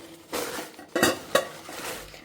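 A steel container clanks and rattles a few times as it is picked up and set down nearby in a kitchen during refrigerator organizing, with short metallic knocks and no talking.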